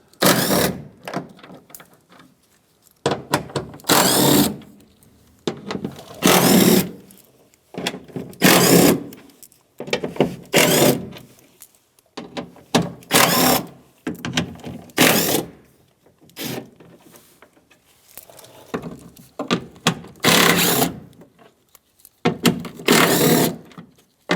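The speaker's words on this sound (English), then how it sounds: "now we're just going to take out our 10 millimeter bolts all the way around the perimeter of this black piece" Bolts coming out of a Mazda CX-9 door around the window regulator panel, recurring loud whirring bursts from a powered driver, each a second or two long, separated by quiet pauses, close up.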